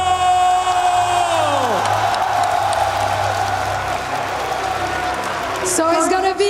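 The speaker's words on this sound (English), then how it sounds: "Listen to the crowd in here." A large arena crowd at a League of Legends esports tournament cheers and roars continuously and loudly, with whoops and applause, under excited caster talk, and a bright musical sting near the end.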